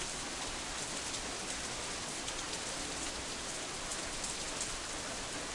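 Steady, even rainfall from the visual novel game Katawa Shoujo, a dense continuous hiss of drops on surfaces at constant level with no voices.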